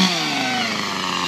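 A chainsaw runs steadily at a campsite where firewood is being cut, its loud, buzzing engine droning close by without pause.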